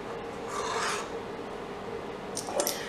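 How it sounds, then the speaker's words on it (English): Skimming foam off a pot of freshly boiled apricot jam makes faint, soft scraping rasps of a utensil against the pot, a few brief strokes in a quiet kitchen. "I'm just going to skim off the foam."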